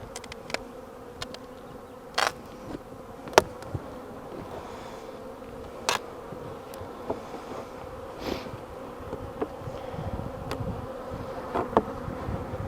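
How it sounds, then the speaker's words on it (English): Honey bees buzz from an opened hive during a spring inspection, a dense steady drone with individual bees passing close and loud every few seconds, no talking. "Bees pouring out as soon as you open the top."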